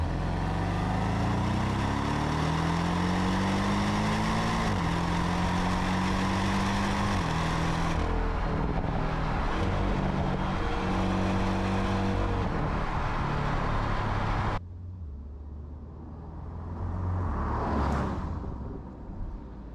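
A car driving on country roads in South East Cornwall, its engine droning steadily and rising and falling through gear changes, close and loud, then dropping to a quieter road roar.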